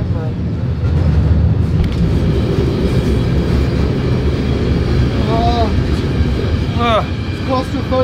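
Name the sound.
freight train running, heard from inside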